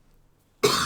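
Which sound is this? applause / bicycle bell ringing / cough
cough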